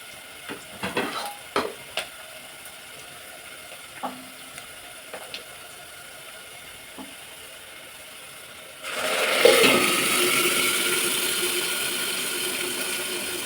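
Light clicks and taps of a pan sound first, then hot tempering meets poured sambar with a sudden loud sizzle that keeps hissing steadily to the end.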